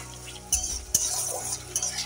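Thick spice paste with potato, grated coconut and chhena is stirred and sautéed in a pan, soft scraping and a few clinks of a spoon against metal over a low, quiet sizzle.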